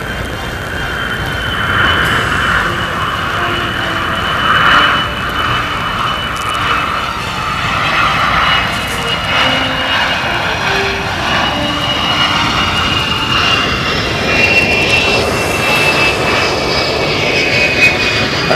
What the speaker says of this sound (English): let's watch and listen. The C-141 Starlifter.